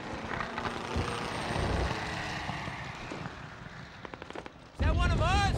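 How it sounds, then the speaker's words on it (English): A World War II plane in trouble and crashing in Call of Duty 2: Big Red One on PS2: a steady roar of engine and battle noise with crackling bursts, building to a sudden loud rush near the end. "Whoa, that plane's in trouble."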